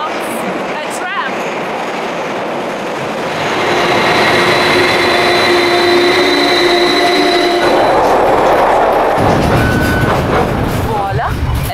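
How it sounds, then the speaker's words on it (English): A tram emerges from a tunnel and grows louder, with a steady roar, metallic squealing tones and rattling wheels, close by and quite loud, in Volgograd in winter. "And from the tunnel comes a tram."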